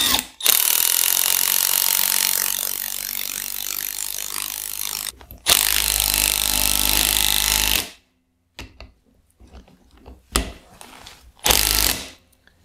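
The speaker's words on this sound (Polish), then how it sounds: "wbijamy kołek i możemy wkręcać naszą śrubę" A power tool drives a screw into a plug set in a concrete wall, two long loud bursts of whirring and grinding followed by a few shorter, quieter spurts and clicks.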